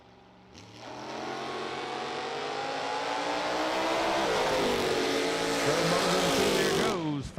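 A radial-tire drag racing car launches hard down the strip at a fall radial racing event, its engine roaring loud and near, climbing steadily through the run with a shift partway and a sharp cutoff at the end.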